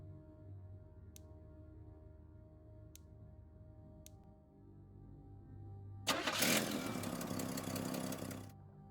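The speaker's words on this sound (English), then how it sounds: "Why does her car sound like a motorcycle?" Car engine starting in a crime investigation video game, a short burst of cranking and revving after quiet ambient sound with faint ticks, loud for a couple of seconds then cutting off.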